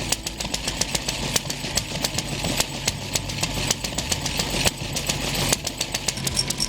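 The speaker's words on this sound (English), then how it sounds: "This is a Lister water-cooled engine powering a lighting plant." A stationary Lister water-cooled engine powering a lighting plant chugs steadily at a vintage engine rally, with regular rhythmic knocks and pops over a constant mechanical hum, close and fairly loud, without pause.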